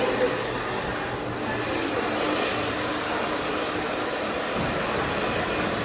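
A hair dryer runs on high speed with cold air during a razor bob haircut, a steady close whooshing roar throughout with no breaks.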